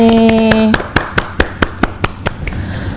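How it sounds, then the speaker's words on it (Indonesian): Clapping for a guest speaker at a student biology sharing session: a held electronic tone cuts off, then about ten sharp, evenly spaced claps ring out close by and fade. "tepuk tangan dulu untuk narasumber yang hebat banget kali ini"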